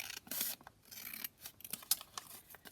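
Scissors snip along folded paper while making a craft pocket book, a close series of short scraping cuts with uneven pauses between them.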